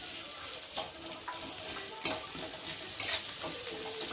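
Chopped onions drop into hot oil and fry with a soft, steady sizzle, joined by a few brief stirring clatters of a utensil in the pan.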